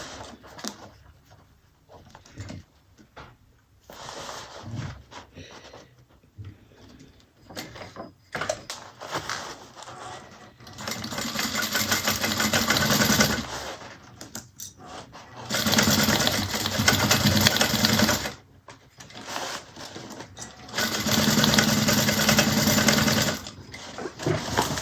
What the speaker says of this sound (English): we're going to sew across at 1/4 inch